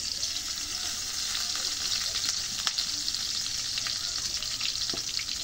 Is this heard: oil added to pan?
yes